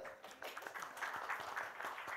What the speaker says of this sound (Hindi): ये अतरंगी की टीम है, उनके लिए जरा तालियां बजाओ यार